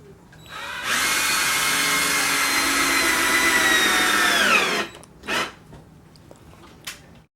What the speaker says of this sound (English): And we're going to drill them down